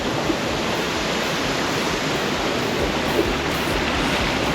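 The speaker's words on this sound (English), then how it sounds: "Wow, we are right on top of the waterfalls." A waterfall in the Springbrook National Park rainforest roars as a dense, constant broadband rush of falling water, heard close from the top of the falls with no one talking.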